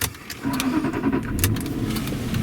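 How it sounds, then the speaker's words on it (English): A 2008 Jaguar XJ Vanden Plas V8 cranks and fires up close by, the start blending with a little key jangling and then settling into a steady low engine rumble. "There, that V8 fires to life."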